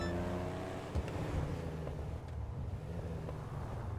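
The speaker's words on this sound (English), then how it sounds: "Why does this car sound so nice?" Benefactor Stirling GT sports car in GTA Online, its engine giving a steady low rumble with harmonic tones that fade into a rougher idle burble, with a brief louder thump near the start and no talking.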